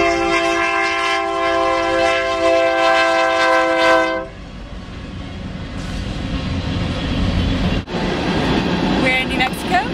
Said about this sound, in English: We're in New Mexico, and there's a train.